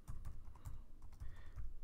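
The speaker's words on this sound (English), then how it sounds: "I'm just going to type in a bunch of numbers separated by a return, like a line break" Rapid, irregular keystrokes of numbers and the return key typed on a computer keyboard, close and clear, with uneven clacks and taps and no talking.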